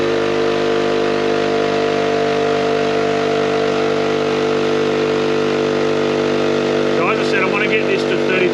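KickAss 12V portable 160LPM air compressor running with a steady, loud, even mechanical drone and whine while inflating a flat tyre, a brief burst of other noise near the end.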